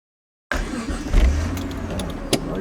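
Mitsubishi 3000GT SL engine starting up after a half-second of silence, a close mid-level rumble that swells briefly at ignition and then settles into a steady idle.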